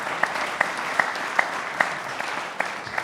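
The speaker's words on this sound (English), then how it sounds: "We can clap to that." An audience claps at a speaking event, a steady wash of moderate applause punctuated by sharper individual claps at roughly even intervals over a few seconds.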